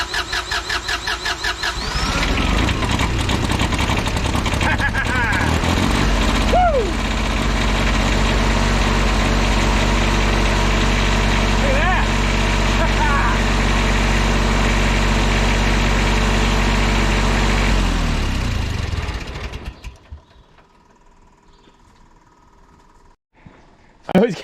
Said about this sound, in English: even when it's a teeny little Kubota engine in a light plant